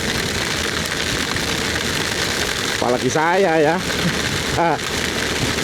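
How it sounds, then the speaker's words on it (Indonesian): Heavy rain pours down in a steady dense wash during a long-distance motorcycle ride to Toli-Toli, with engine noise underneath and someone speaking briefly in the middle. "Ini hujan deres banget ini"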